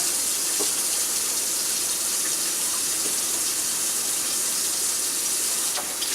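A tap runs steadily while a potato is washed under it, producing a loud, continuous hiss of flowing water into a sink with faint splashes, close by and with no talking.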